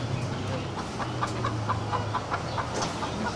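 A chicken clucks in short repeated bursts through a noisy outdoor scene, with people talking over it and a low rumbling background.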